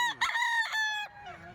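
A rooster crows loudly and close at a chicken market, one long harmonic call with a rising start and sustained middle, followed by a fainter second crow.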